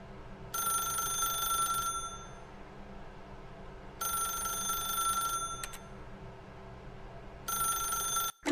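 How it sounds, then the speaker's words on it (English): A telephone rings in The Stanley Parable video game, three long electronic trills separated by pauses, steady and fairly loud over a low background hum, with no voices. "then pick up the phone."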